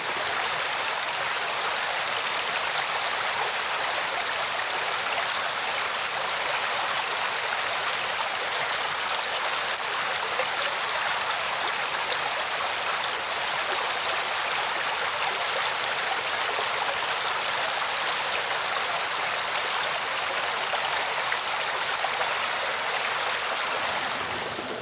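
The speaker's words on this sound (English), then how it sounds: "My brain's just going to enjoy the trickle of water" A rainforest stream trickling steadily, a close, continuous hiss of running water that stays even throughout, with a faint recurring high tone, likely insects, over it and no talking.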